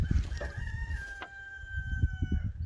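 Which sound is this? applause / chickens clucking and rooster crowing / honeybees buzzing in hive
chickens clucking and rooster crowing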